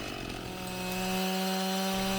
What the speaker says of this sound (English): once the chainsaw's running, you can make quick work of cutting logs